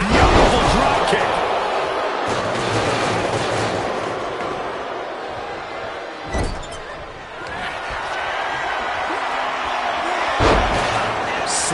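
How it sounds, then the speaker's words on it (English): Wrestlers slam an opponent onto the ring mat during a wrestling match, heavy thuds landing twice over a constant roar of crowd noise with commentary running underneath. "Slamming their opponent into place."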